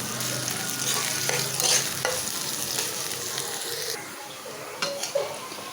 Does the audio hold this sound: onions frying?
yes